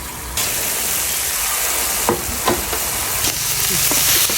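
Pieces of pork fat simmering in oil to render lard, a loud dense crackling sizzle that starts abruptly and holds steady, with a few brief knocks and scrapes of a utensil, no talking.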